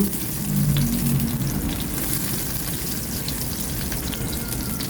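Garlic sizzles in a little hot cooking oil in a pan, a loud, steady, crackling hiss that swells briefly at first and then holds evenly, with no talk.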